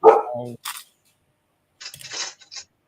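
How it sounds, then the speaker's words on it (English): A dog barks in short bursts in the background during an evening LEGO livestream at home, a sharp close yelp at the start followed by a few quieter barks after a second of silence. "my dog barking in the background"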